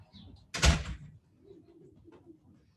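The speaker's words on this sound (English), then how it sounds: "You close the door." A door closes with a single sharp thud and brief rattle, near and fairly loud, followed by faint quiet room sound.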